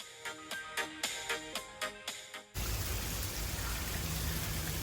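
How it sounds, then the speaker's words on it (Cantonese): Rain falls on a hillside hiking trail. A run of rhythmic tapping and clicking gives way to a loud, steady, close hiss of rain that continues to the end. "今日落雨啊，"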